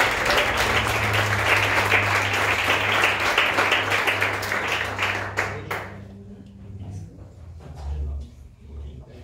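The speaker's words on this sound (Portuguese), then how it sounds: "eu agradeço pelas palmas" A church congregation claps after a blessing, with thick, loud applause over a low organ-like drone that stops abruptly after several seconds and leaves the sustained tones and some quiet voices.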